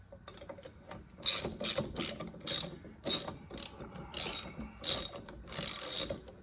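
Ratchet threading a lug nut onto a Mustang wheel stud, with bursts of rapid clicking in short, regular strokes, close and crisp, separated by brief pauses.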